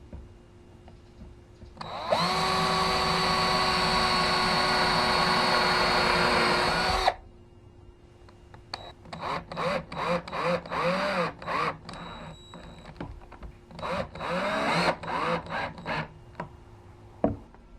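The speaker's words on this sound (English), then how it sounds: "we're going to pre-drill 4 holes in here" A power drill pre-drills four holes in PVC pipe for a pry bar cleat holder: one long steady whine, then a run of short bursts as the bit starts and stops.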